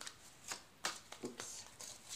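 A deck of tarot cards is shuffled by hand close up, giving quick papery riffles and soft slaps in irregular bursts, quiet and brief.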